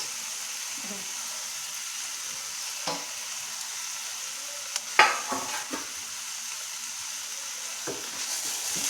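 Chopped gholachi bhaji greens hit a hot pan with a soft, steady sizzle, broken by a few scrapes and stirring clatters, fairly quiet throughout.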